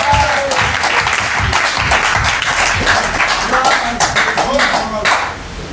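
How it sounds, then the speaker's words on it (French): Loud, dense applause from a congregation at a church convention, steady clapping that fills the space and fades slightly at the end, with voices mixed in. "Applaudissez Dieu."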